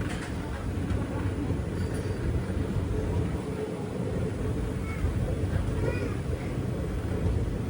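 A steady, close rumble and rattle fill the inside of a moving Silambu Express sleeper coach between Sengottai and Tiruchchirappalli, continuous throughout with faint murmurs in the background.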